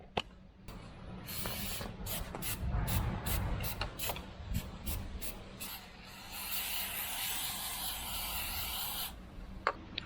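Oil sprayed onto the air filter of a Honda CRF250L motorcycle, a steady hissing spray with short bursts and light rubbing noises, close and fairly loud, no talking.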